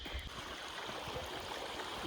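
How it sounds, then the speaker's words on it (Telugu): The Sokuleru river along a ghat road flows in a faint, continuous rush of moving water, steady and distant with no voices. "వాటర్ అన్నీ కూడా ఫ్లో అవుతున్నాయి"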